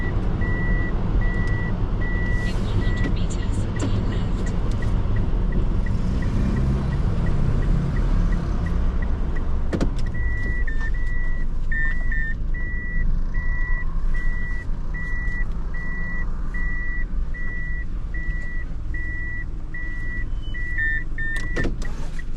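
Reversing beeps from a Toyota Tank kei car parking in a coin lot, a steady repeating electronic tone that starts partway through and continues in regular pulses over low engine and traffic rumble.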